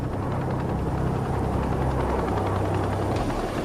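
A helicopter airlifts the tipped-over Dante 2 walking robot from extreme, windy terrain, its steady rotor and engine roar loud and continuous throughout.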